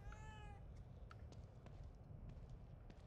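A cat in the video game The Evil Within 2 gives one clear, drawn-out meow at the start, followed by quiet game ambience with faint scattered ticks and taps.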